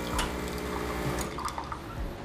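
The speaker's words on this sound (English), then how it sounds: "So the first thing is I'm going to purge some water." Water purges from the group head of an E61 espresso machine, a steady hiss and splash of running liquid with a few drips, close and alone.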